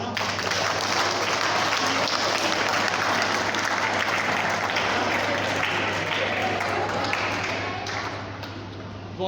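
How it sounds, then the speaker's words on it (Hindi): Loud, continuous clapping from a group at a school meditation program, dense and steady for several seconds before tapering off near the end, with a low hum beneath it. "ताली बजाना।"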